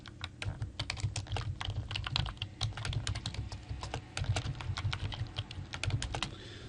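Fast, steady keystrokes on a computer keyboard while entering WordPress user details, close and crisp, with irregular bursts and brief pauses and no speech.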